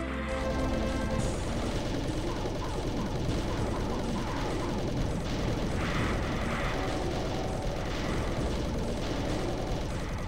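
A plasma gun firing continuously in Doom II, a dense, steady stream of rapid energy shots mixed with explosions and monster noise, loud and unbroken for the whole stretch.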